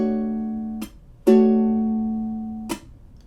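A ukulele is strummed in a basic rhythm pattern for a song. Three chord strums are clearly heard, each ringing out and decaying, with a longer sustain after the second strum.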